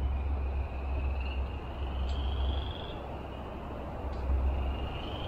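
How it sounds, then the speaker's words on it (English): Frogs call along a wooded nature trail near Charleston, South Carolina, a faint steady chorus of high trilling pulses with low rumbling beneath, heard at a distance with no talking. "I think those are frogs?"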